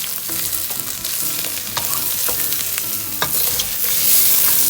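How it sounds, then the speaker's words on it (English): Rice being stirred into Kerala-style chicken biryani in a pan makes repeated scraping and stirring strokes over a constant sizzle, close and fairly loud, with no talking. "Now I am going to add the rice. Then mix it very well."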